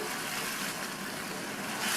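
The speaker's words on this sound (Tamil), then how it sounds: "மிக்ஸி ஜாரை கழுவி 1/4 கப் தண்ணி சேர்த்துருக்கேன்" About a quarter cup of water, rinsed out of a mixer jar, is poured into ground masala in a cooking pot of broad beans, making a soft, brief splashing gush that runs at a fairly quiet level.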